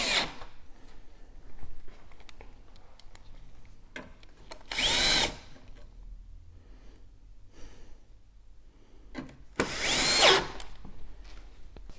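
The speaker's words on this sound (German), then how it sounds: "drehen jetzt jede Schraube einzeln wieder rein." Power screwdriver driving screws back into an oven's convection fan housing: two short whirring bursts a few seconds apart, close and fairly loud, with quiet handling noises and breathing between them.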